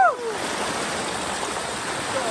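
A strong river current rushes steadily nearby, a loud broadband roar of flowing water with a faint voice at the start.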